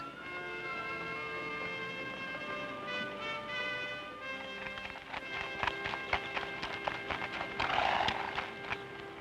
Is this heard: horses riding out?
yes